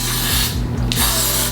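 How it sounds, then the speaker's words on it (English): Got2b hair spray jets from an aerosol can onto hair in a close, loud, steady hiss that lasts the whole moment, with a brief dip partway through. "I'm gonna take a thin layer of this Got2b spray."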